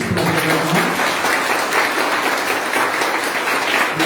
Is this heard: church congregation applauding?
yes